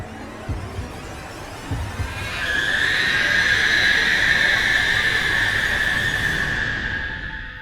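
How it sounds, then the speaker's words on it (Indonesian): A long, shrill, ghostly scream effect rises after a few faint thumps and holds a piercing wavering tone for about four seconds before trailing off, loud and alone in a horror story setting. "sosok itu berteriak melengking sangat panjang"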